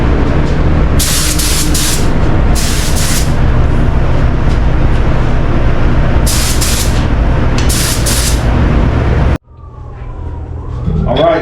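A spray gun lays epoxy coats on the shaved, molded firewall of a 1962 Impala lowrider, loud steady hissing with recurring bursts of sharper spray over a constant compressor-like roar, then an abrupt cut to quieter room sound.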